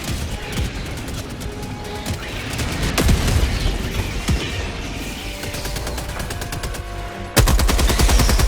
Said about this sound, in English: get the heavy machine gun placement on the edge of the map